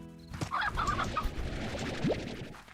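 Chickens in the video game Slime Rancher cluck in a short series of soft calls, fairly quiet, with no speech over them.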